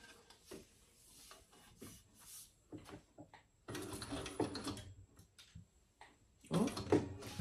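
A home sewing machine stitches a tote bag in short close bursts of whirring and rattling, with quiet handling noises between runs.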